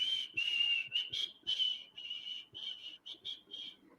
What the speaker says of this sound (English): Such a cool whistle.